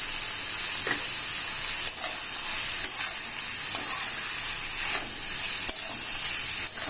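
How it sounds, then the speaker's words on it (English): Onions and tomatoes sauté in a pan for village-style chicken potato curry, a steady close sizzle and hiss broken by regular scraping stirs about once a second, with no talking. "saute it for somewhere around 8 to 10 minutes"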